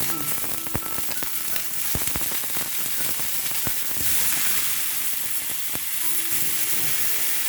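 Eggplant slices frying in hot oil in a pan, giving a steady, loud sizzle with scattered sharp pops and crackles throughout, no voices.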